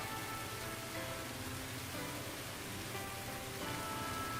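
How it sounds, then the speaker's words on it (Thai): Rain falls in the video game Angel's Tale as a soft, steady hiss, even and unbroken throughout, faint and without voices. "ฝนตกอยู่"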